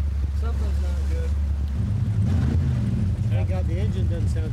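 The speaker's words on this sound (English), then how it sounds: "Oh, the engine doesn't sound bad." A boat engine runs steadily with a low drone under wind and water noise, and a voice speaks over it.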